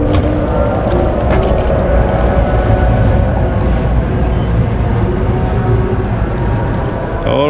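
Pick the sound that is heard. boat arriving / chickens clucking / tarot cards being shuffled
boat arriving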